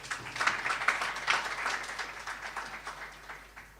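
Audience at a track and field meet's opening ceremony clapping as a speaker approaches the podium, a moderately faint burst of applause that swells early and gradually tapers off.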